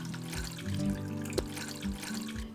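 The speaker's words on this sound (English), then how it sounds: "empty your tray and then fill halfway with water" Tap water running into a seed tray for bottom watering tomato seedlings, a close gushing and splashing stream with a rising fill tone and a few small knocks.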